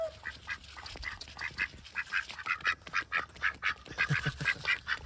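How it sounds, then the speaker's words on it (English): A flock of White Pekin ducks runs across concrete, their feet patting in quick, uneven slaps beneath a steady stream of nasal quacking, all close and fairly loud. "Slap, slap, slap, slap. They're running after me."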